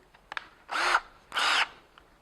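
A power drill pre-drills holes into basement joists in two close, loud whirring bursts, each lasting about a quarter second, with faint clicks before and between and no talking.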